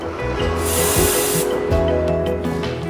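Can of bug spray spraying, a loud continuous hiss from an aerosol nozzle lasting under a second, over steady background music with low beats.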